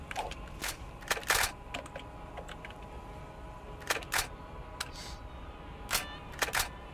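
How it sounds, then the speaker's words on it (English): Shotgun being cocked and reloaded in a video game, a run of sharp metallic clacks and clicks in irregular bursts, close and crisp over a quiet background. "Cock the gun, reload it, then cock it again."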